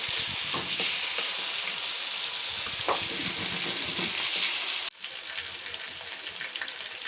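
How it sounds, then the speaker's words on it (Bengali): Pieces of pangas fish sizzle loudly in oil in a wok, a continuous crackling fry broken by a few stirring scrapes and clinks, with a brief dip in the sizzle near the end. "এখন আমি মাছগুলো সুন্দরভাবে ভেজে নিব।"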